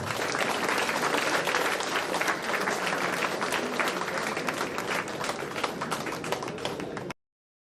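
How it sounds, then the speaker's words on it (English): Sustained audience applause fills a celebration of diversity, equity and inclusion held by a women's talent council at a corporate event, loud and dense for about seven seconds before stopping abruptly. "you guys deserve a big round of applause"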